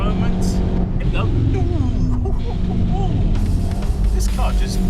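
Race car driving at speed around the Silverstone circuit during a speed machines festival, its engine a loud continuous roar with shifting pitch throughout, while a person talks over it.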